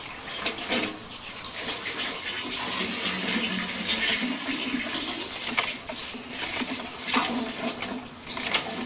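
Water leaking from a pipe underneath, a steady hissing, splashing flow that runs continuously at close range with no talk over it.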